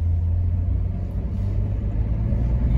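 A Jeep Cherokee XJ driving on a neighborhood street after an alternator replacement: a loud, steady, low engine and road rumble heard from inside the vehicle, continuous and without talk.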